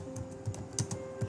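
Close, quiet typing on a computer keyboard: a quick irregular run of soft key taps with a faint steady electrical hum behind, no talking.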